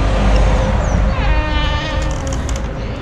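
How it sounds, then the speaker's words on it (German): A cat meows from up high in an old farmstead workshop, a drawn-out wavering cry rising over loud, constant background rumble, close and clear for a couple of seconds. "Da oben sitzt eine Katze."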